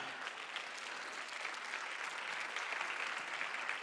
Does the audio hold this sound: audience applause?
yes